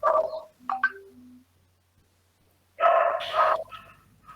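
Dogs bark nearby in two short bursts with high yips between them, separated by a quiet pause.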